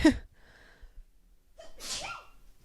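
A single sharp sneeze at the start, followed by quiet breathing and a short breathy exhale a moment later.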